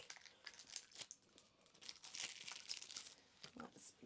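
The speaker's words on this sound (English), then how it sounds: "Let's try and get this out of its plastic." Crinkling and tearing of plastic packaging as a Repair from 2022 recovery lotion is unwrapped, a run of close, fairly quiet rustles and crackles with brief bursts through the whole stretch.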